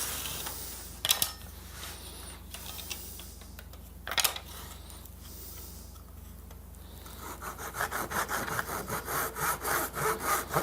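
Hand saw cutting walnut strips to length on a glued-up scrap wood piece, faint scattered scrapes and knocks at first, then a steady run of rhythmic back-and-forth sawing strokes near the end, with no talking.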